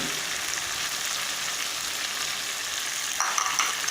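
Red chili and turmeric sizzle in hot oil in a frying pan, a close, even crackling hiss that carries on unbroken, with a brief louder burst of stirring near the end.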